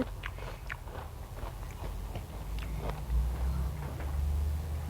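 Crunchy chocolate pop snack being bitten and chewed close up, a run of small crisp crunches over a low steady background hum, with no talking.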